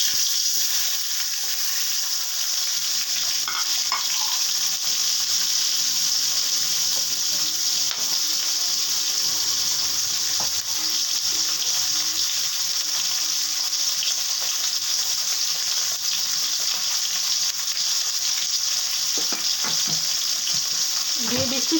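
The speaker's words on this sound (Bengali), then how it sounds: "প্রথমে দিয়ে দিচ্ছি পেঁয়াজ কুচি" Chopped onion fries in hot oil with a loud, steady hiss that runs unbroken throughout, close up, joined by occasional soft stirring scrapes.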